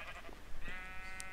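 A sheep bleats once in Minecraft, a short, clear wavering cry over a faint steady hum, with no one talking.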